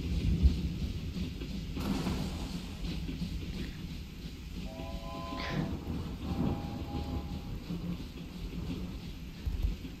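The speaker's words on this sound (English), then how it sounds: "I am on a train now to who knows where" A train ride in the video game Wobbly Life, with a steady rumbling rolling noise throughout, a brief tonal whistle-like sound in the middle, and no talking.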